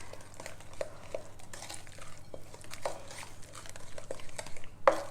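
Blueberry muffin batter is mixed in a bowl, with soft repeated scraping and light clinks of a utensil against the bowl, irregular and close but fairly quiet.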